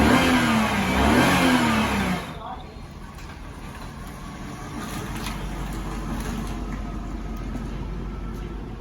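A Volvo 850 with its exhaust under repair revs loudly for about two seconds, the engine pitch rising and falling, then drops to a steady low idle rumble that carries on to the end.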